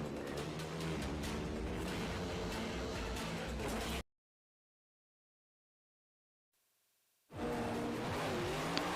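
Car and motorcycle chase from a Fast and Furious film, a dense roar of engines with tire squeals and revving, loud and continuous, cutting out into silence for about three seconds before the racing noise surges back.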